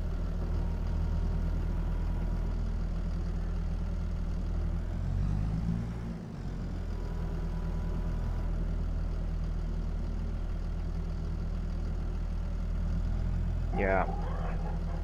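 A tractor engine idles in a farming video game, a steady low rumble that holds throughout, dips briefly near the middle and carries a short mechanical whine near the end.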